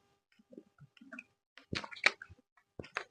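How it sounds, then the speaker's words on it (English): A person takes quick sips of water during a podcast, with a few soft wet mouth and swallowing sounds, close and quiet, in short bursts separated by silence. "if y'all hear me take a little quick break, it's just I'm sipping some water"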